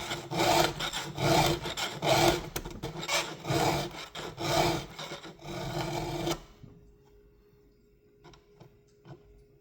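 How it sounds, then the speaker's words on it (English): A hand file rasps a chainsaw chain tooth in steady, light back-and-forth strokes to take off the burr, about a dozen close scrapes, then it stops, leaving a faint hum and a few small clicks. "Now we're just gonna do some nice light strokes till that burr comes off just like that."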